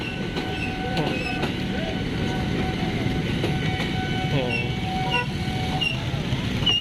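Train rolling along railway tracks in a busy part of Bogor, Indonesia, a steady rumble with rhythmic clicks, metallic squeals and a brief horn-like tone, heard nearby amid street bustle.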